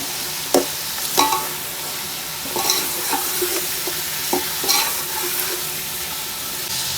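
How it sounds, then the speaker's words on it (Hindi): Chicken sizzles steadily in a pan while a utensil scrapes and clacks against it several times at an irregular pace, close by. "चिकन को 1 से 2 मिनट तक अच्छी तरह फ्राई कर लेते हैं।"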